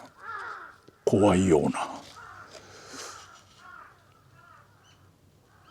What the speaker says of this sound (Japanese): 喋るごとにカラスが集まってきて上めき立てると